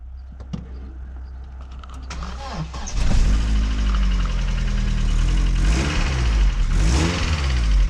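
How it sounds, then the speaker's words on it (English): A Vauxhall Astra CDX estate with a swapped 2.0 engine, unused for months, cranks and catches on the key after a few faint clicks, then settles into a loud, steady idle that continues to the end. "we'll see if it will start the car off the key"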